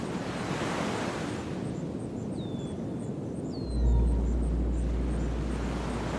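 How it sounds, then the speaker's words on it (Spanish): Sea waves wash and crash against coastal rocks in a steady broad roar, mixed with wind rumble, a few faint high bird calls and a deep low drone that rises partway through. "Tras las rocas resuena el eco del mar."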